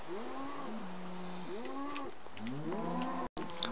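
A Minecraft cow gives a few drawn-out, low moos in quick succession, each a wavering synthetic bellow, heard alone and fairly quiet in the game.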